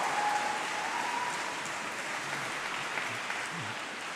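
A crowd claps steadily in a dense, even patter, moderate and sustained without cheering, like polite applause filling a room.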